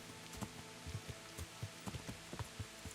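Heavy rain in the medieval game Kingdom Come: Deliverance, a soft steady patter with scattered heavier drops tapping at an irregular rhythm under a faint musical hum.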